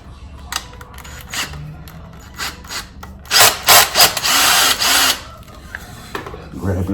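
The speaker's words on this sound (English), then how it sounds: "grab the last screw, drill that in" A power drill with a Phillips bit drives a screw into a heat panel for a PVC reptile enclosure, with several short bursts followed by a longer sustained whir and a few brief knocks. The whole sequence is close by.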